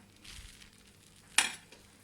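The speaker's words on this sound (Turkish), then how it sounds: "Kaynarken taşmaması için şu çay kaşığını içine atıyorum." A steel teaspoon drops into a pot of milk being boiled for homemade yogurt, giving one sharp, close metallic clink over a faint, steady simmering hiss.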